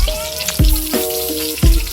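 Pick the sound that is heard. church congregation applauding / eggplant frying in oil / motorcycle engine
eggplant frying in oil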